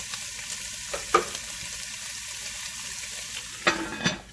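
Steady crackling sizzle of bacon frying in a hot cast-iron pan, with a few sharper pops and clinks of utensils near the start and end.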